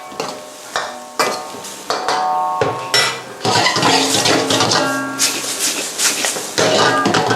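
Stir-fried shark fin with spring onions tossed in a pan, with loud, continuous clattering and scraping of metal utensils against the pan close by, in quick repeated strokes.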